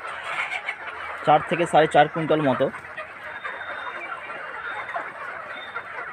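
Desi chickens at a local market cluck in a brief burst of harsh, repeated calls nearby, with someone talking over them and market background noise throughout.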